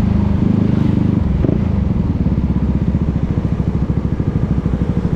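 A single-cylinder motorcycle engine thumps steadily while riding on a road trip, a close, loud, rhythmic low pulse with a faint clatter, heard alone without talk.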